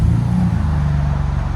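A 2014 Cadillac XTS V-Sport 3.6L twin-turbo V6 with a Paradox muffler and rear delete gives a brief, steady, deep exhaust rumble that holds at a constant level.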